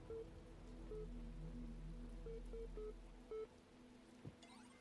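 Soft rain falling in The Talos Principle's rainy world, a faint, steady patter with a few brief electronic tones and chimes over it.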